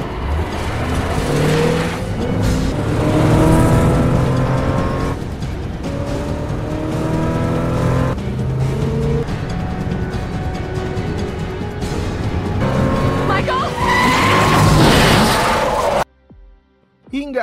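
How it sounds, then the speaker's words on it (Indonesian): A car speeds in and skids in a Prison Break film scene: engine roar and revving, passing whooshes and tire squeals over a dramatic background, loud and continuous before a sudden drop to near silence. "terlihat ada mobil yang datang"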